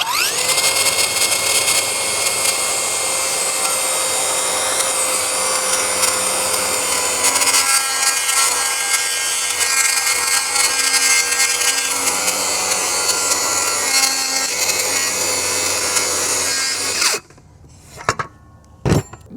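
Flex circular saw cutting through wood, a loud sustained whining cut with a steady high-pitched tone that runs for about seventeen seconds, then stops abruptly, followed by a few brief knocks.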